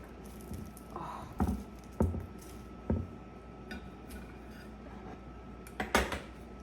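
Knife cutting through a crispy, flaky layered pear pastry, giving a few separate crunchy crackles near the mic at a slow uneven rhythm, with a final cluster of crunches, and no talking.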